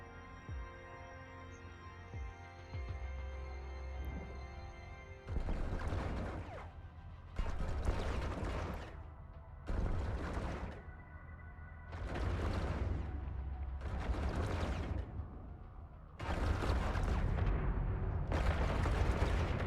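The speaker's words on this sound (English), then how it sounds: "This explosion is gonna blow up my computer." Explosions from a frigate battle in the space game EVE Online, a series of six heavy roaring blasts spaced a couple of seconds apart, each loud and rumbling over a low droning background hum.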